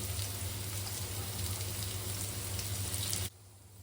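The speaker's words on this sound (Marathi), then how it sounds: "मी सगळे पकोडे तव्यावरती टाकलेले आहेत बघा तेल अगदी कमी वापरलेलं आहे" Chicken pakodas shallow-fry in a little oil on a tawa with a loud, dense, continuous sizzle and crackle. The sizzle cuts off abruptly near the end.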